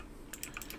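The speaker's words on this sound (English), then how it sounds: "might hear my clickety clack keyboard" Several quick, crisp keystrokes tap on a clicky computer keyboard, faint and close, after a brief moment of quiet.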